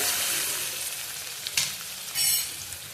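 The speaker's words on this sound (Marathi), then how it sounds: "छान परतून घेऊयात आपण ह्याला" Onion and garlic sauté in a pan for dal tadka, a steady bright sizzle with a few brief scrapes of stirring, close and even throughout.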